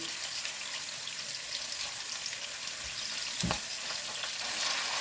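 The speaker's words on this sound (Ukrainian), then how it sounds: "Смажу приблизно одну хвилинку" Steady hiss of tomato paste frying in a pan, with a brief stir or scrape partway through; no voices.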